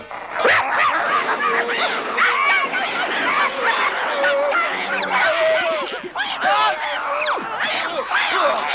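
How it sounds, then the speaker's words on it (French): Several dogs barking, yipping and whimpering at once in a loud, chaotic chorus, close by with overlapping calls throughout. "Tous ces chiens sont contre le pauvre Marcel."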